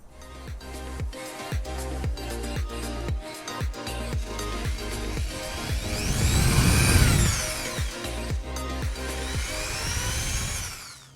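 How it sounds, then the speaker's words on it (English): Power drill boring a small hole for a retaining screw while fitting Ford Accessories Trail Armor on a four-door vehicle with OEM side steps; a steady close whine with a rising, louder burst midway amid repeated clicks. "I'm going to drill a small hole right here for the retaining screw."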